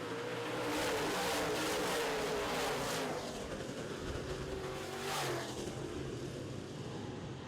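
Modified race cars roar around a short oval track at the start of a feature race, a loud continuous engine drone with passing surges and Doppler sweeps as the pack goes by close.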